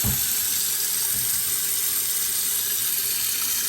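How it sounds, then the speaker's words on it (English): Tap water pours steadily into a cooking pan while pumpkin rice with saltfish is prepared, a constant, close hiss of running water that barely changes throughout, with no talk. "I'm putting some water in the pan."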